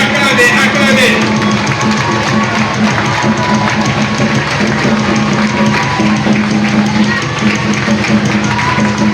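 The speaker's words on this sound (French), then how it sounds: "Applaudissez, acclamez la présence de Jésus" A church congregation applauds and cheers in praise, loud continuous clapping mixed with crowd voices and shouts over steady music, with no break in the din.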